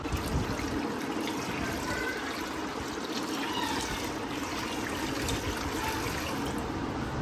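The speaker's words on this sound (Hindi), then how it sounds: "पानी थोड़ा सा और डाल लेंगे।" Water is poured steadily into a pot of marinating chicken for mandi, a continuous close trickle and splash that runs for the whole stretch without a break.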